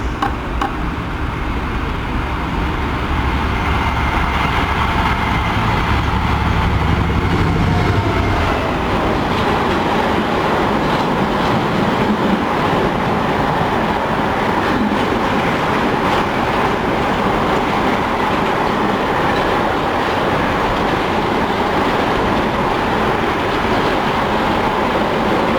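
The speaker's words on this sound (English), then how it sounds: "Here comes the jolly old car train." A long car-carrier freight train rolls through Tilehurst station, a loud continuous rumble with rhythmic wheel clatter and wagon rattle that holds steady throughout, with no voices over it.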